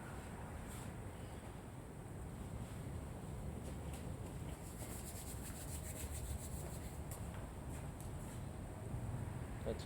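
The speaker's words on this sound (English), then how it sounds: "Buffs off really easy, buffs off smooth." Hand buffing of dried carnauba cleaner paste wax off a car's paint produces a soft, continuous rubbing swish at low level, steady throughout with no voices.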